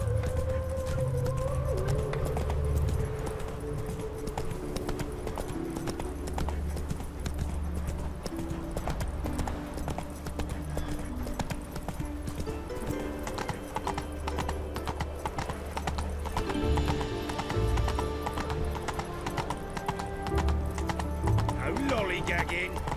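A horse gallops in The Witcher 3 game with continuous rhythmic clip-clop hoofbeats and an occasional whinny, loud and steady over game music and voices throughout.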